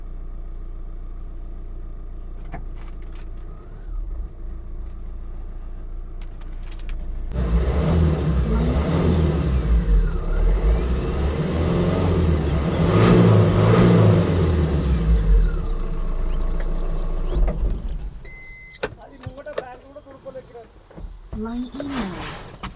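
A Tata Intra V50 pickup engine cranks and starts, then revs for a stretch in a steady, loud rising and falling drone before settling back, with voices talking over it nearby.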